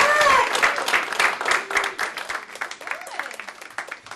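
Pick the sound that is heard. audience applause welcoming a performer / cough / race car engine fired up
audience applause welcoming a performer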